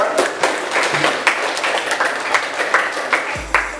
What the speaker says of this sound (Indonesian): tepuk tangan dulu untuk presentasi mereka